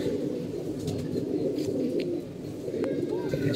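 A group of pigeons coos steadily, low burbling calls overlapping into a constant murmur, fairly close, with faint background movement and no clear talking.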